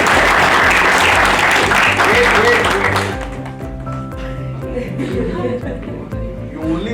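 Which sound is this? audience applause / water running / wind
audience applause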